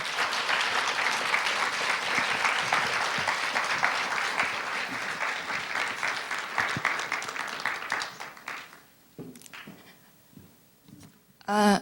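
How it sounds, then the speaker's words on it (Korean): An audience applauds to welcome a lecturer on stage, with sustained, even clapping for about eight seconds that then dies away to scattered claps and a few quiet sounds. "큰 박수 보내주십시오"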